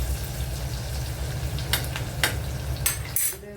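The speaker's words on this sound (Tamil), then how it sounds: "கொஞ்சம் நமக்கு வெங்காயமும் கருவேப்பிலையும் கொஞ்சம் லைட்டாக கருகின மாதிரி வரும்போது நம்ம எடுத்து தாளிப்பாக ஊற்றிடலாம்" Onion and curry leaves tempering in hot oil for radish sambar, a steady close sizzle under a low background rumble, broken by a few brief stirring clinks.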